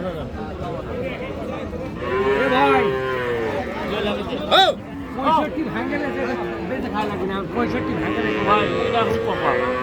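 Cross Friesian cattle moo repeatedly at a busy rural livestock market in Dinajpur, loud, drawn-out lowing calls rising over steady crowd chatter and nearby talking.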